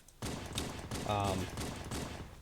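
A few sharp pistol gunshot bursts from the video game Halo: Combat Evolved crackle out in quick succession, loud and close, with a muffled voice murmuring underneath.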